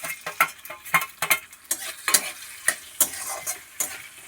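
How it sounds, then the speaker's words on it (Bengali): Whole cumin seeds fry in mutton fat in a pan alongside dried red chillies, with a steady sizzle broken by sharp, repeated scraping stirs of a utensil, close and fairly loud, with no talking. "দিয়ে দিলাম গোটা জিরে, দিয়ে এটাকে ভেজে দিয়ে দেবো একটু টমেটো পেঁয়াজ।"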